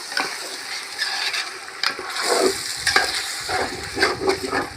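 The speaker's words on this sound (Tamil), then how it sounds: "போதும் இஞ்சி பூண்டு பேஸ்ட் வதங்கிடுச்சு இப்போ தக்காளி போட்டுக்கலாம்" Tomatoes hit hot oil with ginger garlic paste for country chicken biryani over an outdoor stove, a loud continuous sizzle broken by repeated scraping stirs of a spoon against the pan, close by.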